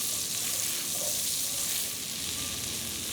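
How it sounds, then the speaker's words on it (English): Garlic paste made from crawfish boil leftovers sautés in melted butter in a backyard kitchen, giving a steady close sizzle with a hissing crackle that holds even throughout, and no talking. "you add in 2 tablespoons of that garlic paste that we made from the crawfish boil. We'll let that saute up a little while."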